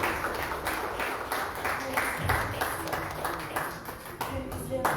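A church congregation claps in praise, a steady rhythmic patter of many hands filling the room while a voice speaks over it.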